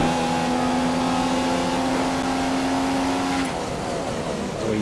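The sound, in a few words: Formula 1 car engine accelerating, from a racing video game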